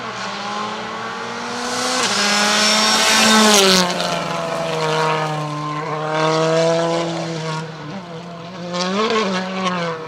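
A Hyundai rally car passes on a rally stage, its engine note climbing and falling through several gear changes as it goes by, loud and close with no talk.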